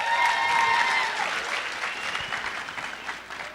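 An audience at a curtain call and finale breaks into a loud burst of clapping that gradually thins into scattered claps, with a voice briefly audible over it.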